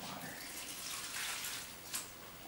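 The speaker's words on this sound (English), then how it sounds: "I would want to add in more water to this" Water poured into a dry mix of cultured vegetables with ginger, a steady close splashing pour with a small splash near the end, no talking.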